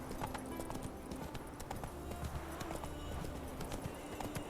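Roach the horse's hooves clip-clop steadily up a mountain switchback in the video game Witcher 3, a quick continuous rhythm of hoofbeats with some faint background game sound.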